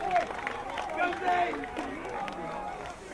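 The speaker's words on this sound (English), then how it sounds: "You can hear the crowd roar." A crowd roars at a Dunedin club rugby Championship Colts final after a successful kick: a dense, sustained wall of cheering and shouting with voices poking through, steady and fairly loud for the whole stretch.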